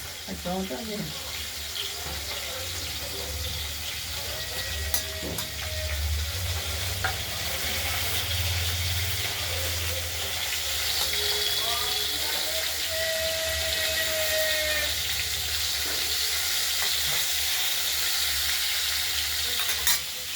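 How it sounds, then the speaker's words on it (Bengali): Potatoes and beans frying in hot oil for a tilapia fish curry, a steady close sizzle and crackle with occasional stirring scrapes, a low background hum and brief faint voices underneath. "তেল গরম হয়ে গেছে বসিয়ে দিয়েছি। এগুলো আমরা ভেজে নেব।"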